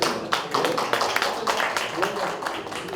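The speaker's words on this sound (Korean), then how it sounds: "뜨거운 박수 부탁드리겠습니다" A burst of clapping from a modest crowd at an exhibition opening ceremony, brisk and uneven, continuing steadily over a few seconds with voices faintly underneath.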